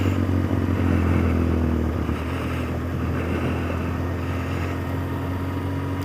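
Off-road motorcycle ridden through Welsh countryside on a wet day, engine droning steadily and loud throughout with a low hum, mechanical clatter and wind buffeting, no speech.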